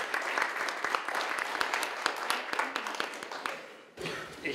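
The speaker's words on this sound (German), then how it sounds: "Und das ist ein Applaus wert." Audience applause at an art exhibition opening, dense hand clapping that continues steadily, briefly dips, and then picks up again near the end.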